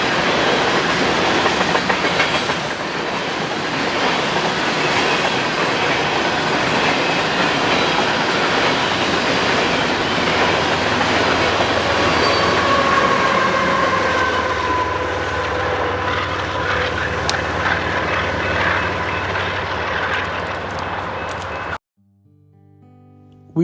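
A BNSF westbound unit grain freight train rolls past on the Fallbridge Subdivision near North Bonneville in the Columbia River Gorge. A long, steady rumble carries rhythmic clickety-clack from the wheels and a faint squeal, then eases and cuts off abruptly.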